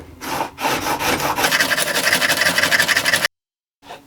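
A chisel is rubbed back and forth on a 1000 grit sharpening stone, a close, rhythmic rasping scrape for about three seconds that stops abruptly, followed by a faint touch on the stone.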